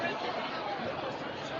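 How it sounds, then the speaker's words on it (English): Crowd at a Friday night high school football game between Oakleaf and Mandarin, a steady roar of chatter and shouting in the stands as penalties are called, dense and continuous throughout. "Here's the crowd in the uproar about the penalties being called here tonight."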